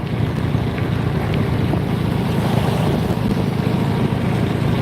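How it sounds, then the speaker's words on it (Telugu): Steady, dense broadband wash of heavy monsoon rain in Nellore district, Andhra Pradesh, loud and unbroken throughout, with a low rumbling roar underneath and no voices. "తిరిగి అదే వర్షం తిరిగి ప్రారంభమైంది"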